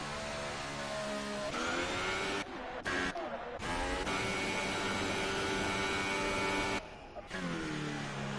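A Formula-style race car engine in a sim racing league session with DRS open on a straight, a loud sustained high-pitched whine held steadily, with brief dips as gears shift, under faint commentary.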